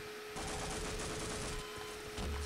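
Rapid automatic machine gun fire in the video game Half-Life: Opposing Force, a continuous harsh burst that carries on for a couple of seconds, loud in the mix with no voices over it.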